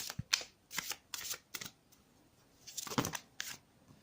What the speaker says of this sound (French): J'ai vraiment du mal à battre ces cartes.